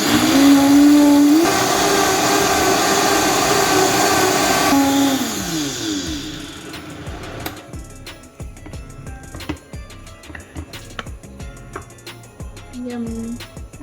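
A kitchen blender whirs loudly and steadily as it purées chiles for pozole, its motor pitch dropping as it winds down partway through, followed by quieter clatter and handling sounds.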